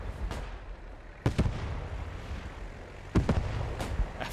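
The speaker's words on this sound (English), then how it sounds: "Artillery strike lands deeper." Artillery strikes land in the World War II shooter Post Scriptum during a large realism event: two heavy, distant booms about two seconds apart, each followed by a rumbling tail, with smaller pops and a steady battlefield hiss between them.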